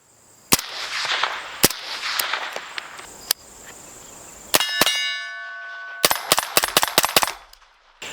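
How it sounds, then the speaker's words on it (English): Suppressed 5.56 rifle shots ring off a steel target, each muffled report followed by a sharp metallic clang, first spaced out, then in a quick string of rapid hits with ringing tails. "I've got a bad habit of shooting that steel"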